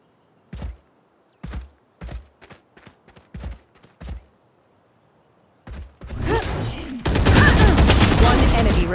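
Gunfire in the tactical shooter game Valorant: several sharp separate shots in an uneven rhythm, then after a pause a dense, loud, continuous burst of firing.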